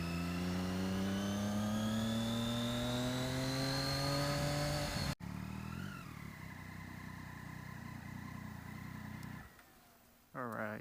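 2014 Triumph Daytona 675R supersport motorcycle being ridden, engine rising steadily through the revs, then a gear change and a drop in pitch, loud and close, with a brief dip near the end.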